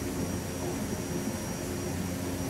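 Twin Otter aircraft in a flight simulator game approaching to land at Kathmandu, a steady droning engine hum with a faint tonal whine, continuous and even throughout, no speech over it.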